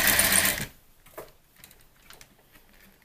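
A sewing machine stitches a quick back tack on a box-style swag, giving a loud, fast, even run of needle clatter that cuts off, followed by faint ticks and fabric handling.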